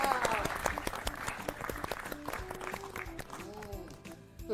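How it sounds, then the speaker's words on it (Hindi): Audience applause fills the set of an educational quiz program on DD National, with clapping that rises to a lively peak and gradually fades, accompanied by a short musical cue and voices. "एक बार फिर से जोरदार तालियां"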